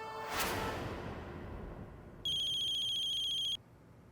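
A mobile phone ringtone plays a bright, repeating electronic melody for just over a second after a brief whoosh, fairly clear against a quiet room with no talking.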